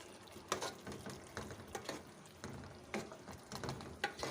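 Chopped turnips fry in a pot with spinach, mutton and tomato, giving a soft, steady sizzle broken by stirring scrapes and clinks.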